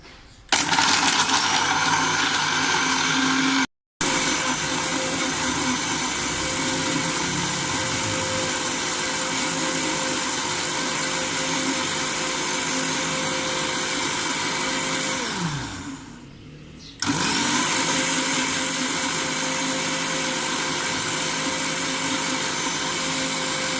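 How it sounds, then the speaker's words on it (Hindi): A blender crushes ice cubes and mint leaves for a mint margarita, a loud, close, steady motor roar that stops briefly twice, once with a falling pitch as it slows, then starts again. "मैं अब आपको इसको ब्लेंड करके दिखाती हूँ"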